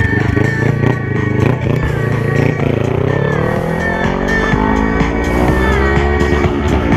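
A new BMW S1000RR sport motorcycle at a track day runs continuously and loudly close to the microphone, its engine note rising and shifting as it rides, with a few faint mechanical rattles.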